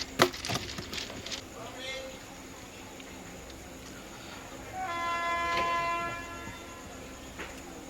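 The Vijayawada–Lingampalli Intercity Express approaches from the opposite direction at a railway crossing, with faint rail rumble and a brief horn blast midway, quiet and distant under ambient noise.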